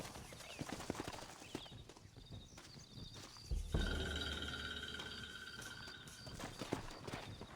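Horses clip-clop in the Western video game Red Dead Redemption, with hooves sounding as irregular close steps and a heavy thud midway followed by sustained tonal game sound; no speech.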